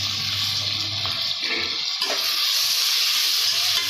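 Onions fry in a pan for kuska, giving a steady, fairly loud broadband sizzle that runs unbroken for the whole stretch with no voices.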